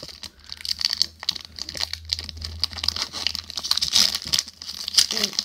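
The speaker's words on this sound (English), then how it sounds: "Let's open this pack" The crinkly plastic wrapper of a trading card pack rustles and tears close up, a continuous scratchy crackling that lasts the whole stretch with no voices.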